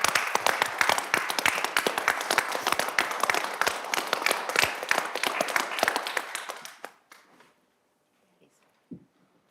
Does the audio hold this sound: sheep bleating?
no